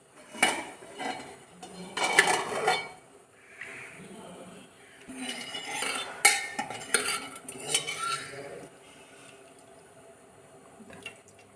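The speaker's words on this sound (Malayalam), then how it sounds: "ഇനി കുക്കർ തുറന്ന് നോക്കാം." Pots and utensils clatter in a home kitchen as a pressure cooker of cooked dal for a palak parippu curry is opened, with bursts of metallic clanking and some running water, close and fairly busy, with occasional quiet speech.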